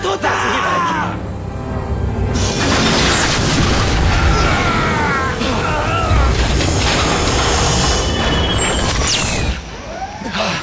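A tower blown up with a bomb in a video game erupts in a loud, sustained rumbling blast mixed with yelling voices and dense game noise, close and overwhelming for most of the moment.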